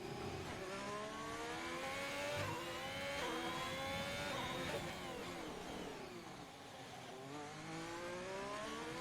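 Racing video game car engine, loud and continuous, revving up through rising pitch sweeps and briefly dropping at upshifts, with a quick short-shift near the middle before the note climbs again.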